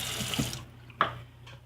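Water poured into a bath bomb mixture, a short splashy trickle with a couple of small plops, faint and close, heard alone.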